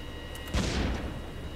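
One deep booming shot from warship guns in a naval war video game, set against a steady low hum, with the blast swelling and then fading over about a second.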